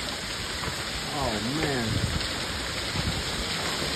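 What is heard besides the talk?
hail and rain during severe thunderstorm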